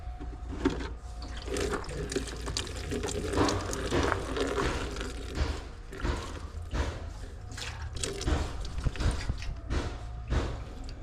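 Methyl hydrate drains out of a rusty 1984 Yamaha Virago fuel tank into a container, a steady close trickle and splash with irregular drips running throughout.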